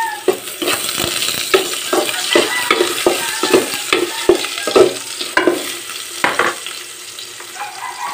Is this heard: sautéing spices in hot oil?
yes